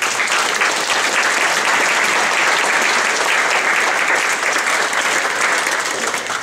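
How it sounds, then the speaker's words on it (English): A church audience applauds steadily after a youth mission trip presentation, a dense, loud wash of clapping that holds evenly from start to finish with no talk over it. "how about a round of applause for the spirit?"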